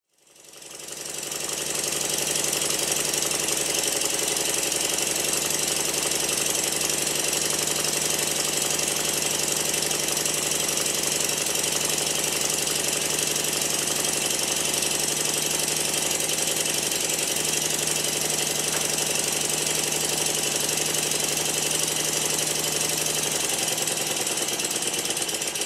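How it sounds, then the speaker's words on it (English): A Stuart triple expansion model steam engine runs steadily, giving a fast, even mechanical chuffing and rattling that starts abruptly and holds at a constant pace close by with no voices. "Here's the first clip of the engine running in this episode."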